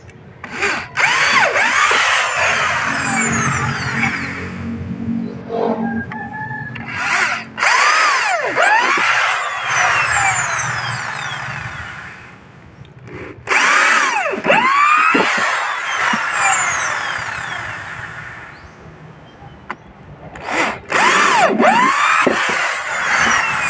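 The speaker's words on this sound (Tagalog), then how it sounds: "binabarenahan ng ating idol" A power drill bores holes for fitting a motorcycle mudguard, loud and close, with several long whining bursts that rise and fall in pitch and short pauses between them.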